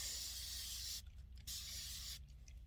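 Water spray rinsing hairspray and chalk off an engraved glass mug, a loud close hissing spray that cuts off twice briefly before resuming.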